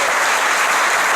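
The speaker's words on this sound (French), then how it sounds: "Vous pouvez les applaudir encore" A brief burst of dense, loud applause from an audience at a volleyball club team presentation, close and continuous.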